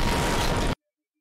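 A loud animated explosion from a Skibidi Toilet battle scene bursts in a dense roar for under a second, then cuts off abruptly to silence.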